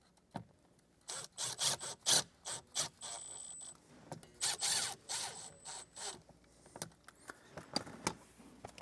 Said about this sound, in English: we can come back with our Phillips head bit here and screw these in